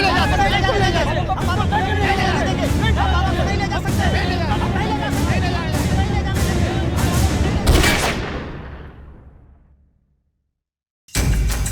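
A sharp gunshot fired into the air rings out amid a noisy, agitated crowd of shouting voices, then the scene cuts briefly to silence.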